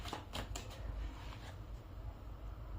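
Tarot cards shuffled by hand, a few quick crisp riffles at the start settling into a soft, continuous rustle, faint and close.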